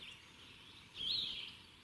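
Wild turkeys gobble in the distance on the opening day of spring turkey season, a faint rolling call rising briefly over a steady high insect-like hiss outdoors.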